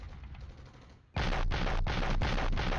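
Cannon and gunfire in the Cold War wargame Flashpoint Campaigns: a low rumbling din suddenly gives way to a loud, dense barrage of rapid firing with brief gaps, continuing steadily to the end.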